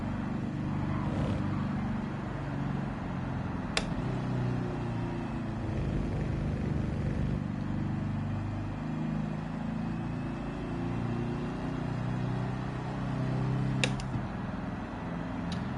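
Car engine in the Gran Turismo 7 racing game holding a steady mid-pitched drone while climbing a hill, with a couple of brief clicks and no gear change evident, continuous and fairly faint throughout.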